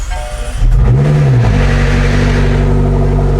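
A McLaren engine cranks briefly and catches, rising in a short rev before settling into a loud, steady close idle, with no voices.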